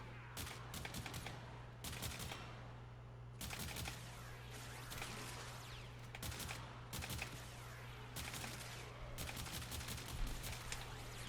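Rapid bursts of secondary-weapon gunfire from the game Warframe, loud and close, firing in clustered volleys with short pauses over a steady low hum, no talking.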